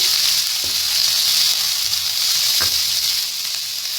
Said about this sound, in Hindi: तेज आंच पे इनको हल्का सा सौते कर लेंगे।